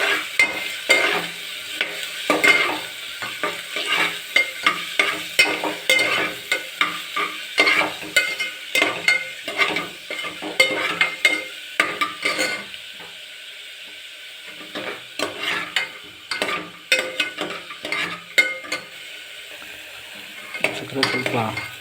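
Onions fry in a pan for upma while a spoon stirs them in repeated scraping strokes over a constant sizzle, close up and fairly loud with no talk.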